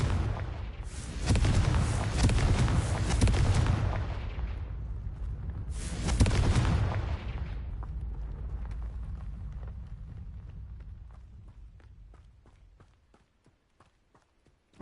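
Two loud Confringo spell blasts erupt close together in a Harry Potter video game, with a broad fiery roar that slowly fades, followed by light rhythmic clip-clop-like ticks as the sound dies away.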